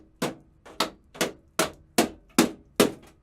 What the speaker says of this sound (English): you may need to get the hammer in there